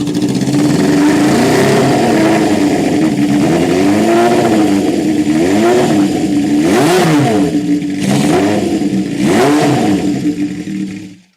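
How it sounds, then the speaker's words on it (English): A mid-1990s Honda resto-mod motorcycle engine starts and revs repeatedly, loud and close, with a rough idle between sharp rising blips of throttle over about eleven seconds before cutting off. "It's got to be the noisiest bike I own."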